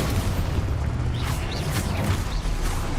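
Spell blasts from Hogwarts Legacy, Confringo fire bolts and Exposo explosions, crackle and boom repeatedly in a dense, loud game battle with a steady low rumble underneath.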